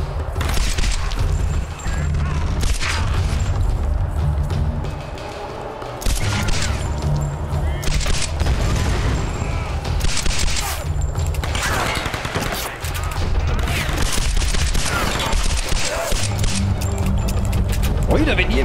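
Gunfire and a near explosion erupt in the Tomb Raider video game, with dense bursts of shots and booming impacts running almost continuously, loud and layered under a voice talking over the action.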